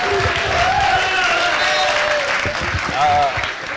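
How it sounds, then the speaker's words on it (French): Audience applause at a gathering, dense clapping under a loud voice speaking over it, with the crowd noise sustained and fairly close throughout. "C'est bon, on va l'applaudir."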